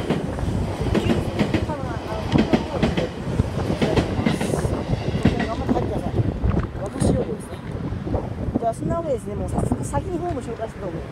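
A limited express train passes through Namegawa Island station on a line in Chiba, a close rumbling rush with rhythmic wheel clatter under someone talking.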